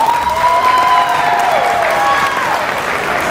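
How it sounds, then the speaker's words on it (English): An audience at an elementary school Black History program claps for the young performers, a dense, loud burst of applause from the crowd filling the whole moment. "Give them another round of applause."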